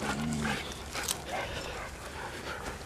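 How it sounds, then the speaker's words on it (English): A dog gives a short whimper near the start, followed by a few faint yips and rustling noises up close; no clear speech is heard. "Oh, it's a doggy."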